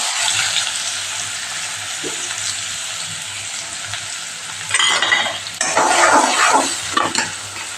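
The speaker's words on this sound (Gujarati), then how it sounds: "હવે આપણે ડુંગળી ઉમેરીને સાતરી લઈશું" Onions sautéing in hot oil with cloves, cumin and asafoetida for a Kathiyawadi-style masala okra curry, a steady crackling sizzle that grows louder and busier midway as the pan is stirred, with no voices.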